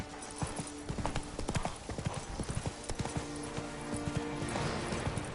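Roach, a horse in a video game, gallops with loud, sharp, uneven hoof clops pounding close by for several seconds, with a faint whinny and game ambience underneath.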